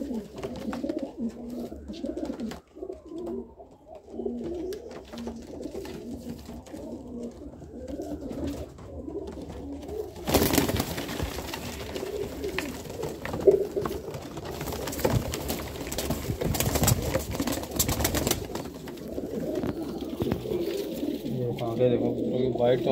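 Domestic pigeons, green-necked and white-sheen birds for sale, coo steadily in a group close by, with people talking over the birds throughout.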